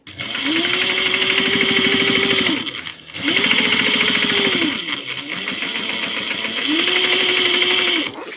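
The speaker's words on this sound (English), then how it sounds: "And we're almost done basting." A sewing machine runs basting stitches along a tote bag in three steady, close, loud runs of about two to three seconds each, separated by brief pauses, with a constant mechanical whir underneath.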